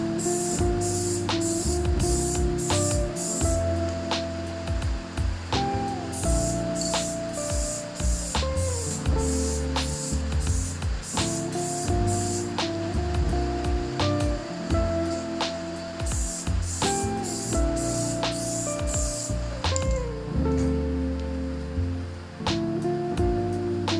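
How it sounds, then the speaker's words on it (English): Repeated short hissing bursts of spray paint from a can, misting a car grill, come in quick sequences over a steady background, close and fairly loud throughout. "give your grill or whatever piece you're doing a nice light mist of spray paint"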